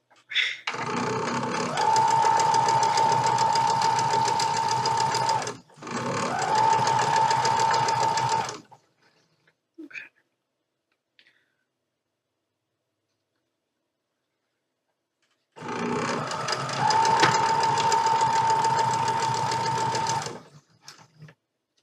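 A sewing machine stitches through thick quilt pieces in three sustained runs, its motor humming loudly and steadily, with a long quiet gap before the last burst.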